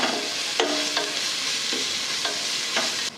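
Ground masala paste sautés in a pan, sending up a close, continuous sizzle broken by several sharp spatula scrapes and stirs at irregular intervals, with no voices.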